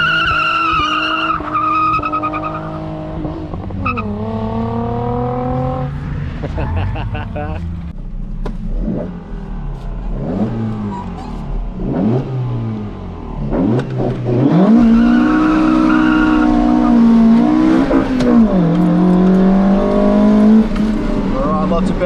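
A Toyota MR2 skidding on a race track, with tires squealing in long sliding pitch sweeps, the engine revving and dropping, loud and close, and a driver's voice talking briefly between slides.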